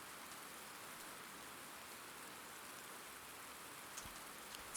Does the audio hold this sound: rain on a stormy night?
yes